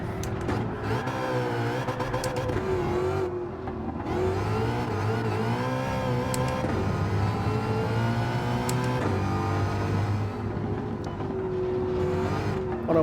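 A Le Mans World Touring Car 700 race car in Gran Turismo 7 roars continuously at close range, its engine rising and falling in pitch through gear shifts as it revs.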